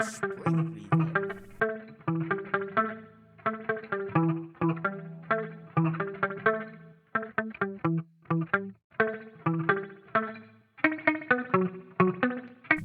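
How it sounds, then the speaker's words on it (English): Electric guitar chords and picked notes drenched in a bright, springy reverb from a reverb plugin's spring mode, played steadily with a rhythmic, washy tail after each strum. "Guitar 2 uses the spring reverb."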